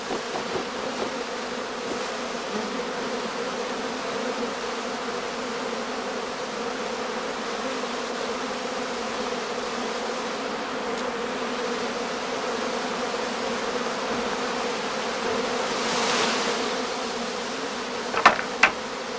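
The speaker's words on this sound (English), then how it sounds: "no further bees emerge from the skep" A swarm of honey bees that has just left a straw skep hums in a dense, steady drone during the prime swarming season on heathland in northern Lower Saxony, with a few faint clicks near the end.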